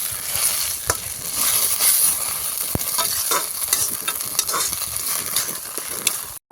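Kulthi (horse gram) dal paste frying and being stirred in a kadhai, a steady close sizzle with scraping of the spoon throughout, no voices.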